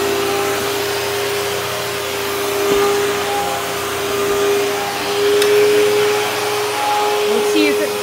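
A vacuum cleaner runs steadily close by over a rug, its loud motor whine holding a constant pitch with slight swells in loudness as it moves across the pile.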